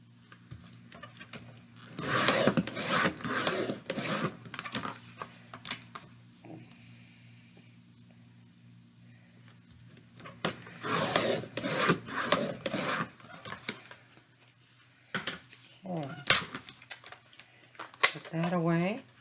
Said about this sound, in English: So I want to cut my hinge chipboard, and I'm going to cut it just a little bit wider.